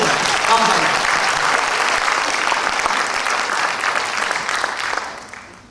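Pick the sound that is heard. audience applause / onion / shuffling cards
audience applause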